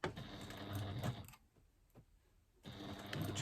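A sewing machine stitches through several held-together layers in close, steady bursts, running for about a second, pausing briefly, then starting again.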